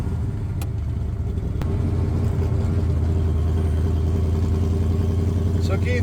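A 1965 Shelby AC Cobra engine rumbles steadily as the car drives, a low continuous drone heard from close by with a couple of sharp clicks, while people talk in the background.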